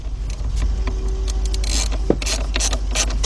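A 3/8-drive ratchet with a 10mm deep socket clicks in short bursts as it tightens a bolt on a 2008 BMW 335xi 3.0, close up over a low steady hum.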